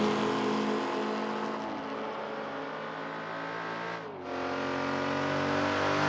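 A Hillman Imp and a Ford Mustang race in Assetto Corsa, British saloon cars with engines droning and revving steadily. One car drops pitch briefly as it shifts, then pulls away loudly again.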